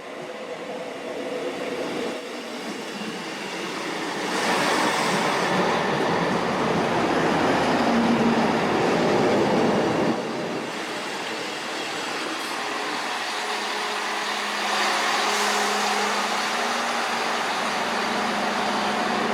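A diesel train bound for Wales rumbles past loud and close, wheels clattering and screeching faintly on the rails, with the roar swelling and easing in waves over about twenty seconds.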